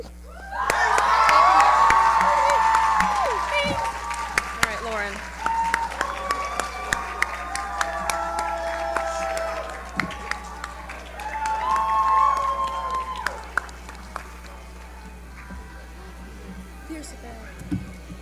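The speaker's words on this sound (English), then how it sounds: "please applaud my girl Issa and give this GC an even bigger cheer" An auditorium audience at a model congress event applauds and cheers, with whoops and shouts swelling early, easing off, then rising again before trailing away, as a voice speaks briefly over the noise.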